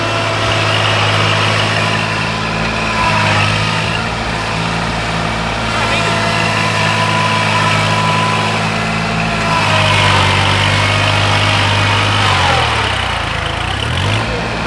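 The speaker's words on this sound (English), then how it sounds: "That's a 2-series Kubota." A Kubota 2-series tractor engine labors at a steady, loud drone while pulling a field implement, the pitch dipping briefly near the end, with faint talk underneath.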